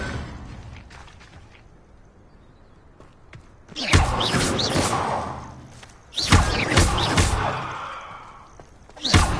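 Confringo blasting spells hit and shatter vases in the Hogwarts Legacy video game, giving three sharp, loud bursts of crashing and breaking a few seconds apart over quiet background sound.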